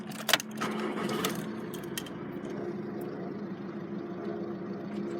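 Keys jangle in the ignition of a 2010 black Volkswagen Scirocco GT TDI DSG, then the diesel engine starts and settles into a steady low idle hum inside the car.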